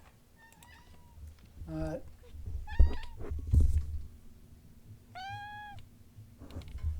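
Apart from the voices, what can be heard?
cat meowing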